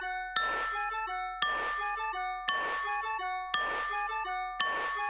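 A bell-like phone ringtone melody resembling Carol of the Bells repeats in five evenly spaced bursts of chiming, tinkling notes, clear and moderately loud with no voices.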